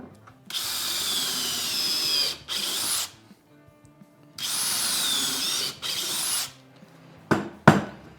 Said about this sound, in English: I'm just going to poke a hole through it because this is actually the inside